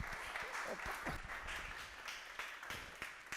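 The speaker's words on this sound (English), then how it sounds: "big round of applause for him" An audience bursts into a dense wash of applause to welcome a speaker onto the stage at a live event in Verona, steady and fairly loud throughout with a few sharper individual claps standing out.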